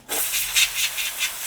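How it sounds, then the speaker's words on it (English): A steady, close hiss of a compressed air spray can spraying in short pulsing bursts onto a MacBook Pro A1398 logic board, starting abruptly and continuing without pause. "can spray here, air spray"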